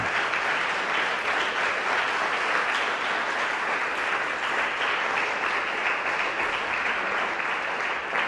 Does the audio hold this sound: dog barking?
no